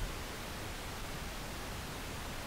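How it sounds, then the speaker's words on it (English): Steady pink noise run through an UnderToneAudio MPEQ-1 channel strip with mic pre and EQ, a constant, even broadband hiss that holds at one level throughout with no talk over it. "let's put some pink noise in now and have a little play around with, let's say, the low pass"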